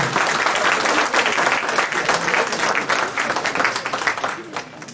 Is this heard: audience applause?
yes